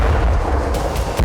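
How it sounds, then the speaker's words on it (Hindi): A loud explosion in Crimea throws up a fireball into the sky, booming with heavy low rumble and a couple of sharp blast cracks near the end, continuous and close. "जोरदार धमाके के साथ आसमान में उठता बारूदी ज्वाला का ये गुबार"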